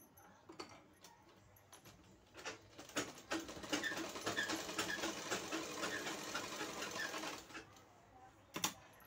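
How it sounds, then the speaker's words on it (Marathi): A tailoring sewing machine stitches along a straight marked line on a sleeve, running in one steady, fairly quiet whirring burst of about five seconds, with a few clicks before and after. "ही जी रेषा आखली तिथं आपल्याला शिलाई मारून घ्यायची आहे."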